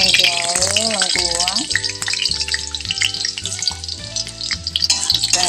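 Tempeh and other ingredients fry loudly in hot oil, with a continuous close sizzle and crackle plus stirring clatter and rhythmic low knocks throughout.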